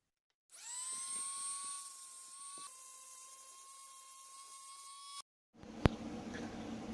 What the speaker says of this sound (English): I'm going to use a ball cutter. It's a carbide cutter.